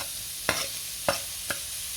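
Sautéed aromatics sizzle softly in a pan for Filipino baked macaroni, with three distinct scraping stirs of a spatula against the pan over a low, steady frying hiss.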